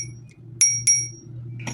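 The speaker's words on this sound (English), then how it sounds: "Oh, we got a bell." A bicycle bell on a Toofly GS5 electric bike, heard indoors while unboxing: two quick bright dings in close succession and a fainter third one near the end, over a low steady hum.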